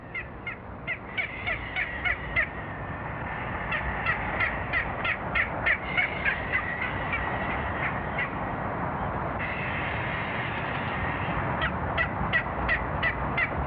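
Frigate birds calling at a nesting colony on Genovesa in the Galápagos, with repeated harsh, raspy calls in rhythmic bursts that carry steadily over a constant noisy background.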